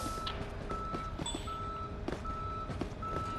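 A tow truck reverses in Police Simulator: Patrol Officers, its backup alarm beeping steadily at a regular pace over low engine rumble and faint ambient noise.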